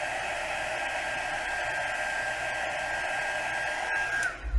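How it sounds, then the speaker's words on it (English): Embossing heat tool blowing hot air onto paper coated with embossing powder, a steady close-up whoosh throughout that cuts off abruptly near the end. "I'm going to move the embossing tool the whole time."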